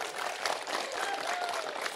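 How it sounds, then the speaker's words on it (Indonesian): An audience claps for Pak Anies in steady, dense applause that stays even for about two seconds, with no speech on top. "Beri tepuk tangan dulu yang meriah untuk Pak Anies."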